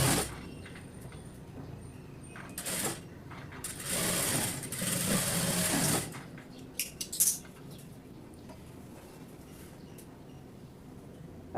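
Sewing machine stitching a half-inch seam on a chudidar, starting from the neck, with bursts of mechanical whirring from about 2.5 to 6 seconds and quieter clicks and handling afterward.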